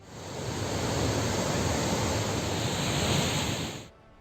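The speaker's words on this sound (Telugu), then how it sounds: "శ్రీశైలం ప్రాజెక్టు 3 గేట్లు ఎత్తడంతో కృష్ణమ్మ పరవళ్లు తొక్కింది" Krishna river water rushing through the opened gates of the Srisailam dam, a loud, dense, continuous roar of churning water that cuts off abruptly near the end.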